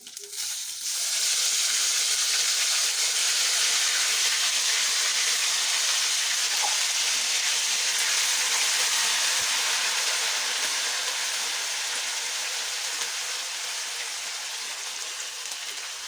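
Beef pieces for pickle drop into hot oil in a pan and set off a loud, steady sizzle after a second of quiet, a continuous frying hiss that eases slightly toward the end.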